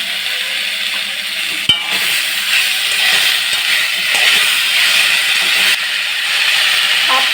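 A spoonful of panch phoron (five-spice tempering) fries in hot oil in a pan while it is stirred, making a loud, continuous hiss and sizzle with a sharp knock of the utensil partway through.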